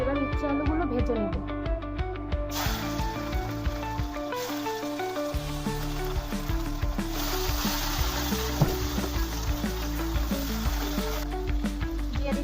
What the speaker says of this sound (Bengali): কড়াইতে তেলটা গরম হয়ে গেছে, এবার উচ্ছে আলুগুলো ভেজে নেব।